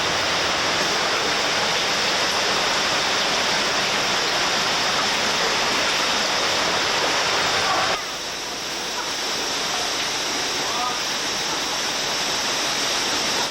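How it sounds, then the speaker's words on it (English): A waterfall roars inside a flooded water canyon, a loud, broad, unbroken rush that softens slightly partway through but keeps pouring steadily throughout. "we hear what could only be a waterfall"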